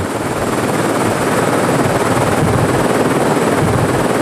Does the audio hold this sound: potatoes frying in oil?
no